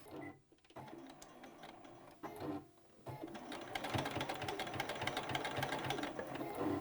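A sewing machine stitches a pleat on a fabric face mask, quiet at first with short stops, then a fast continuous whirring close by.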